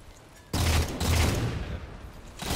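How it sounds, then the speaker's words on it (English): Sniper rifle shots in Halo 4 Team Slayer on the Genesis map: a heavy, booming report followed closely by a second, then rumbling echo and another shot starting at the very end. "Notice this first sniper bullet whizzing across the bottom of the screen that hits my teammate"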